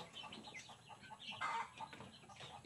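Chicks and chickens freed from their coop cluck and peep faintly, scattered soft calls overlapping in a quiet outdoor setting.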